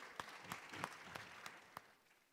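Faint, thin applause at the 2023 Afreximbank Annual Meetings, a few scattered claps standing out at an even pace over a quiet room before fading.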